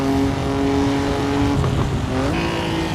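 A Formula 3 race car in Assetto Corsa on the Südschleife, its engine droning steadily and loudly, then a quick heel-toe downshift blip and a rising engine pitch near the end, with no talk.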